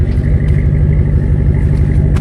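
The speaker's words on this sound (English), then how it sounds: "on these Rams gives you a pretty freaking loud exhaust" A 10-year-old Ram pickup truck with a Flowmaster Super 40 exhaust, running with a loud, deep, steady burble at close range and no talking.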